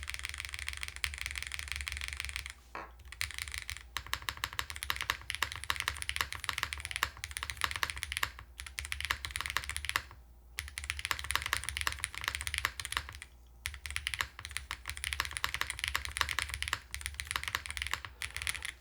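Fast, steady typing on a QK100 MKII mechanical keyboard with its foam partly removed, a dense run of close, crisp key clacks with a few short pauses and no voice.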